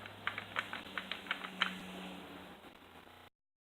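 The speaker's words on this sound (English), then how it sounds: "So we kind of hear it click back into place." A DIY forge-made firing mechanism gives a series of sharp, close mechanical clicks in an uneven rhythm over about two seconds, then fades to a steady hum before cutting off.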